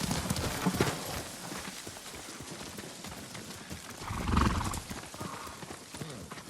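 Horse hooves clopping in Ghost of Tsushima, a close, steady trot that is briefly overtaken by a louder snort or neigh before the footfalls carry on.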